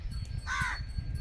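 A single short, harsh crow caw rings out over a low rumbling background, fairly close and clear.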